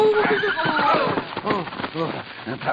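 Horses neigh and whinny with clip-clop hoofbeats in a radio drama chase near a canyon, the sounds loud and continuous with voices talking over them throughout.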